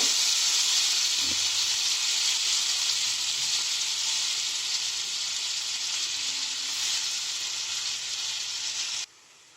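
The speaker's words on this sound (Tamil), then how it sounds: "இப்போ இந்த சூடான வடசட்டியில் இந்த வெண்ணெயை அப்படியே எடுத்து போடலாம்." Butter melts in a hot kadai with a loud, steady sizzling hiss that holds unbroken for about nine seconds before cutting off abruptly, with no talking.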